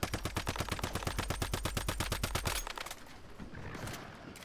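Rapid automatic turret gunfire in the video game Once Human, a steady loud burst of about twenty evenly spaced shots over two and a half seconds, then trailing into rumbling battle noise.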